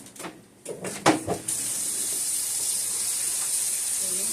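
After a few knocks and clatters, a kitchen tap runs steadily over beans, likely black-eyed peas, rinsed in a colander, making a continuous bright rushing hiss close by.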